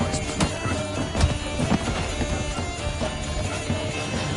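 Horse hooves clip-clop steadily in The Witcher III video game, a rhythmic trot sitting under dense game music and ambient sound, with occasional louder hoof strikes standing out.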